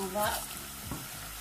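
Sugar and water being stirred in a pan for caramel, a soft close scraping and swishing of the mix with a faint wet sizzle underneath, short and quiet.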